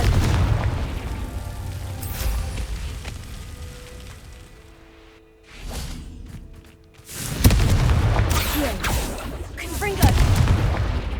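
Spell explosions from Confringo go off in Hogwarts Legacy as deep booming blasts with broad crackling bursts, loud and close, separated by a quieter stretch with tonal music and a brief voice.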